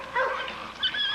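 Gator, a playful kennel dog eager to reach his son, lets out high whimpers and short yips in a close, continuous burst, with no talk over it.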